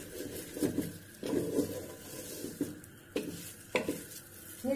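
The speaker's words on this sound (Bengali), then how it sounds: "এখন হচ্ছে চাল ভাজার পালা" Raw rice for pulao is fried and stirred in a pot, a soft steady sizzle broken by a series of light spoon scrapes and taps against the metal, fairly quiet and close.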